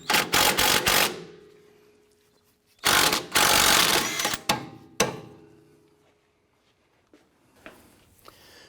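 A breaker bar fitted with a 17mm socket works a stuck bolt back and forth on a 2004-2008 Acura TL front CV axle, making loud bursts of rapid ratcheting clicks and metallic rattling with quiet gaps between them.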